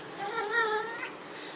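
A cat gives a single drawn-out meow that rises and then falls, close by and clear above a quiet room.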